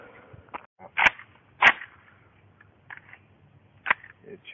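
Sharp metallic clacks and clicks as an AK-74 rifle is loaded with a ProMag magazine and the action is racked to chamber it, a handful of close, distinct impacts with quiet handling noise between.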